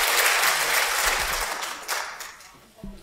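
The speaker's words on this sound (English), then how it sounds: "give them another round of applause to encourage them" Audience at a debate event applauding, a dense burst of clapping that starts full and fades away over a few seconds, with a voice faintly starting up near the end.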